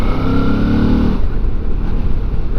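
A V-twin motorcycle engine throbs loudly up close on a country road, a deep harmonic drone that drops off about halfway into a rougher rumbling idle.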